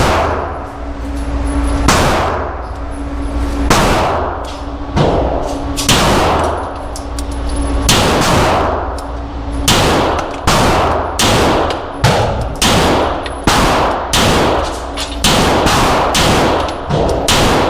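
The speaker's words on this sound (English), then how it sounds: "Let's do a few test shots." Beretta 92XI pistol firing test shots at 10 yards, a string of loud, sharp gunshots spaced about a second apart, each with a brief ringing tail, steady cadence throughout.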